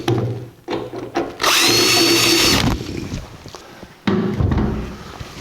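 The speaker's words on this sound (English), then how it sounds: "we can drill our holes" A power drill bores bolt holes through the rear tire carrier bracket of a 1984 Jeep CJ7, a loud steady whine lasting about a second, followed by a quieter second burst, with workshop noise between.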